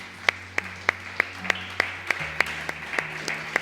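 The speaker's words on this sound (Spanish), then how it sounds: "Démosle un aplauso al Señor, hermanos" Church congregation claps in a steady, even beat at a sermon, crisp sharp claps repeating about three per second over soft sustained keyboard tones, with no talking.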